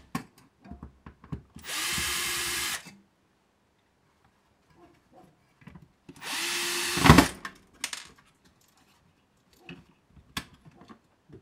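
Power screwdriver backing screws out of an electrocardiograph chassis during a teardown, two short whirring bursts separated by quiet handling clicks and rattles, fairly faint and close.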